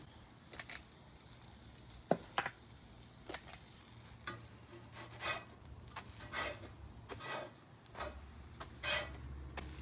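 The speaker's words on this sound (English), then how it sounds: "As soon as they hit that griddle, you can see it shoop, poof up." Hoe cakes sizzle and crackle on a hot griddle. A steady low hiss runs throughout, with repeated sharper pops and scrapes close by and no talking.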